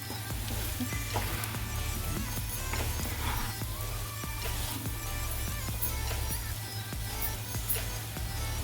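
Raw tiger prawns frying in a pan, a loud, steady sizzle with crackling pops that carries on without a break, close up, while a low hum runs underneath.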